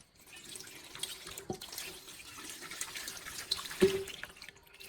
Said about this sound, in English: Then simply rinse with water and the original stains are gone.